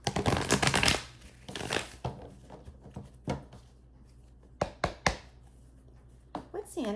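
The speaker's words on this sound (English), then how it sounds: "Let's do one more shuffle." Tarot cards are shuffled in quick bursts of riffling and tapping, close by, with a dense flurry at the start and scattered taps and card slaps afterward. A voice talks faintly between the bursts.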